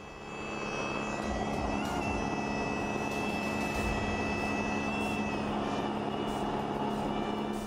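A light aircraft flying into a strong headwind gives a steady, droning engine hum with a sustained tonal whine, continuous and fairly distant, with no voices.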